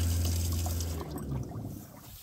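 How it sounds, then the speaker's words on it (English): Water gushes from a fold-down marine faucet in a camping trailer, a steady running stream with a low hum that breaks off about a second in, leaving a softer trickle and splashing. "Lots of water coming out."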